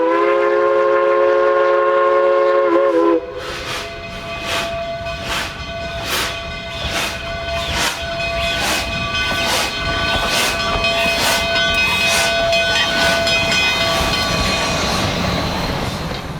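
Durango and Silverton narrow gauge steam locomotive 476 runs light from Rockwood toward Durango in winter, opening with a loud sustained chime whistle before settling into a steady rhythmic chuffing exhaust with hissing steam, near and clear.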